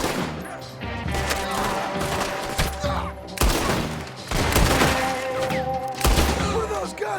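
Red Dead Redemption shootout with rapid, repeated gunshots and machine-gun bursts, loud and close, with thuds and shattering mixed in and a voice briefly heard over the firing.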